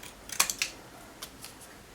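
Scissors snip paper for a homemade snowman shaker card: a few quick crisp cuts close by, then lighter snips spaced out over a couple of seconds.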